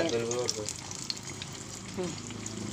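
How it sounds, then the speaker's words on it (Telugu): Potato and plantain bajji fritters fry in hot oil with a steady bubbling sizzle, as someone talks nearby at times. "ఇక్కడ బజ్జీలు వేసేసాడు ఇంకా వేస్తున్నాడు"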